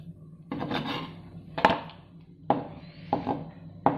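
Knife chopping ingredients coarsely on a board for shrimp cheese perkedel: a few sharp, fairly close knocks and scrapes in uneven bursts, fairly quiet, with no speech.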